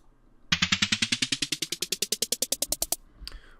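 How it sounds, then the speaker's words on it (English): Minecraft note block on sand giving the snare drum sound: a quick series of roughly twenty crisp, bright hits in an even rhythm, moderately loud and alone, followed by a faint extra click. "Sand is the snare drum,"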